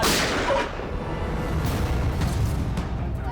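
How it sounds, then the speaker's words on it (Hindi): A gunshot rings out in a crime drama scene involving a rifle, a loud burst at the start that trails off into a long, noisy rumbling decay. "अरे गोली चली"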